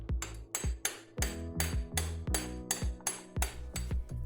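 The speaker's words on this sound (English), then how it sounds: "Drift out the bolt." Hammer blows drifting a snug bolt out of a Husqvarna 701 motorcycle, about eleven loud ringing metallic strikes in a steady, even rhythm, close by with no talk.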